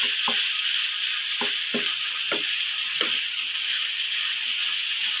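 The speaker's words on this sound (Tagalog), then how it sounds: "Haluin po natin siyang mabuti. Yan para maluto siya at makot ang mga patatas" Potatoes fry with canned beef in a pan, giving a steady loud sizzle, while a utensil stirs in several quick scraping strokes during the first few seconds.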